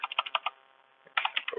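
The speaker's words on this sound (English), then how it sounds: "So most of the things I'm just going to be typing" Close, crisp clicks of typing on a computer keyboard come in two quick bursts separated by a short pause, with no talking.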